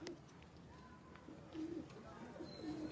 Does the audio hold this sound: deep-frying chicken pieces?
no